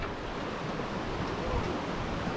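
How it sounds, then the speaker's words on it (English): Steady rush of water flowing over the top of a waterfall at Edith Falls in Litchfield National Park, a broad continuous roar with no breaks, fairly close and filling the whole moment without any voices. "That's where all the water's coming from that waterfall."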